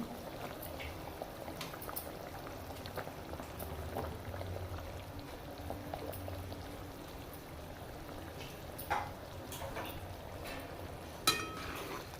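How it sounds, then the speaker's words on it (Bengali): A pot of curry broth with fried fish bubbles steadily at a low, even level, with a couple of faint clinks near the end. "ঝোল ফুটে গেছে"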